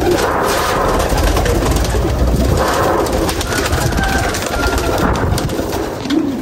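Several pigeons coo close by in soft, rolling calls over a constant background hum.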